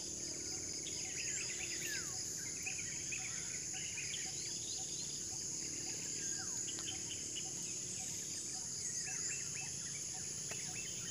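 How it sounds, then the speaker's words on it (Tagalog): Morning on a farm: crickets keep up a constant high shrill drone while several birds call and trill in quick repeated phrases nearby, a quiet layered outdoor scene with no talking. "Ang sarap pakinggan guys ng mga huni ng ibon at mga tunog ng kuliglig"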